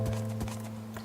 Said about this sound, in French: Je vais prendre ce cheval, ah putain, pour explorer.